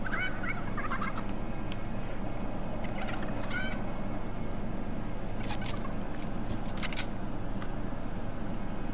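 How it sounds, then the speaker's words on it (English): A chicken in the video game Fortnite gives a run of gobbling, clucking calls over constant game background noise, with a few sharp clicking bursts scattered through. "Now drop the chicken."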